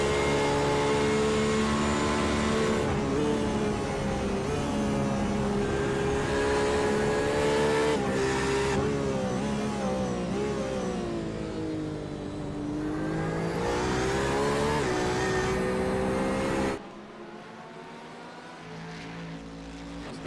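Sports sedan race car at Phillip Island, engine roaring loud and steady with rising and falling revs through gears, a second car's note layered in, then dropping to a quieter, more distant drone near the end.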